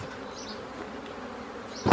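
Honeybees buzzing around an open beehive during queen-rearing work, a steady close droning hum with a few individual bees whining past.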